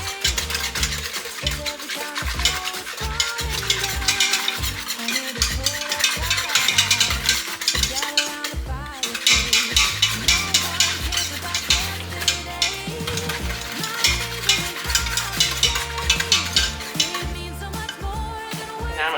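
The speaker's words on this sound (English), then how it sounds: "we're going to give it a nice little whisk here" Peppermint mocha creamer whisked in a glass jar, a steady rapid clinking and swishing that runs continuously at close range with no talk.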